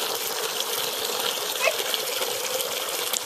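Water running steadily from a tap, a continuous close gushing stream at moderate level with no talk over it.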